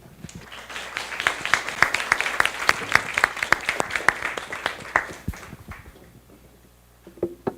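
Applause at a foreign correspondents' club event in Taiwan as the Vice President is invited on stage: a modest crowd clapping in sharp, distinct claps that build, hold, then taper off, leaving a quiet room with a faint sound at the end.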